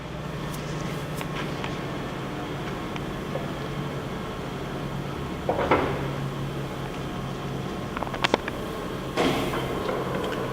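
A Poreba heavy duty lathe turns at its lowest speed of 8 RPM, giving a steady, quiet mechanical hum broken by a few faint clunks and brief rattles.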